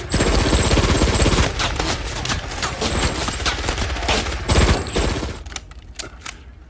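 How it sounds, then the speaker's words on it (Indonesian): Gunfire from a Second World War film about partisans attacking German soldiers comes as dense, rattling volleys of rapid shots and bursts, loud at first, then thinning into scattered sharp cracks near the end. "Hingga satu persatu tentara Jerman tewas tertembak."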